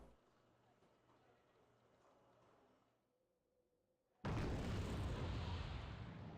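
Artillery explosions in the Wargame: Red Dragon video game, a quiet low rumble that falls almost silent before a sudden loud, broad blast erupts and stays roaring to the end.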